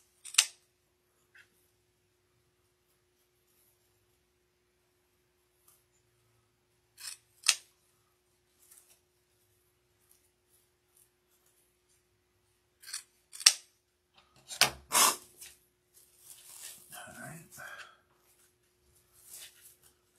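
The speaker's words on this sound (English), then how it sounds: "this is going to be my fabric cutting scissors" Fabric cutting scissors snip through ribbon while a St. Patrick's Day wreath is made, with a few sharp isolated cuts early on and then a denser cluster of crisp snips and rustling ribbon near the end, close and clear with no talk.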